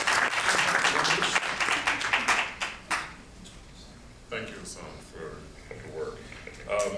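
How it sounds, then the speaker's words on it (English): An audience at a lecture applauds the panelists, loud and dense at first and then thinning to scattered claps before a voice begins speaking over quieter room noise. "if we can give them one last applause"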